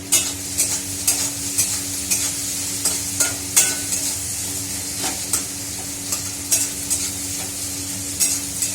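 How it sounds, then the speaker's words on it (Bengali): Onions fry in a pan with a constant close sizzle, broken by repeated scraping stirs of a spatula at an uneven rhythm, with no voices. "পেঁয়াজটাই ভাজা যাবে।"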